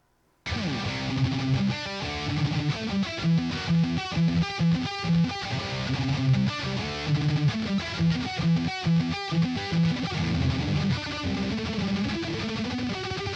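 Heavily overdriven electric guitar riffs through an overdrive pedal with its boost maxed, a loud, saturated, buzzing tone, playing steadily and close throughout after a brief silent start.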